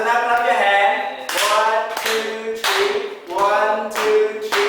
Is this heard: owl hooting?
no